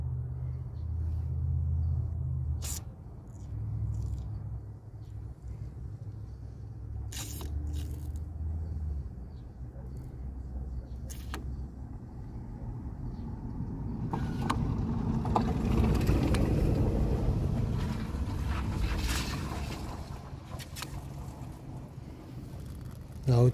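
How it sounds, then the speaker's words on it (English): Flushing fluid flows through the AC system pipes of a 2006 Mazda 3, a low continuous rumble that fades, then rises into a louder gurgling hiss before easing, with scattered clicks and brief speech. "we will hear the sound of the fluid going inside the pipe"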